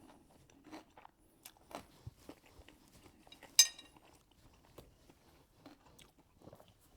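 Quiet, close crunching and chewing of crispy pork belly with scattered bites, plus faint clinks of cutlery, one brief sharper crunch near the middle.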